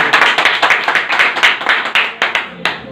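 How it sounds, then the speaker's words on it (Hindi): Rhythmic group clapping at a Modicare business meeting, a quick steady series of sharp claps filling a few seconds, fairly close and loud, trailing off into a few final claps. "एक बार जोरदार तालियां।"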